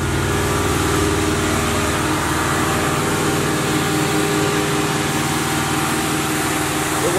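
A small 312 engine in a Box Chevy runs steadily at close range, an even, continuous mechanical drone without pauses.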